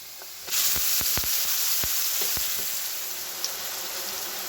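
Masala paste frying in a pan of already fried onions for a kabuli chana curry, a loud steady sizzle that kicks in abruptly and carries scattered sharp crackles and pops, with no talking.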